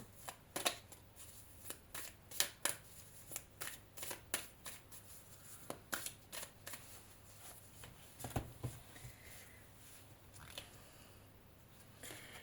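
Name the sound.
oracle cards being shuffled and drawn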